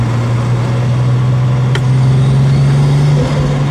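A turbocharged VW Golf 2 pulls hard in fourth gear, its engine a loud, steady drone close by that climbs slightly in pitch, with no one speaking over it.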